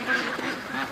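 Free-range ducks in a yard give a brief, faint run of quacks, heard alone at a moderate distance.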